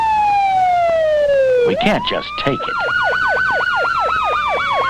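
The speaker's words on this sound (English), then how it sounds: "The way we ask for it is with our red lights and sirens." A fire truck siren on a Code 3 emergency run from a 1973 driving lesson, a loud close wail that sweeps down, then shifts into a rapid repeating yelp, with a voice speaking briefly over it.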